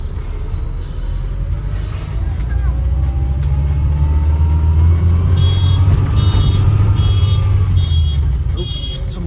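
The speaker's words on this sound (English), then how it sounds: "Got an over-enthusiastic car alarm." A car alarm chirps in a repeating series of short high tones over loud engine rumble from a nearby vehicle, on a rural road in the Peak District.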